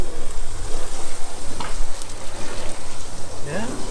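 Water sprays and rinses off a camper in a loud, continuous rushing hiss with uneven surges, and a brief voice rises near the end.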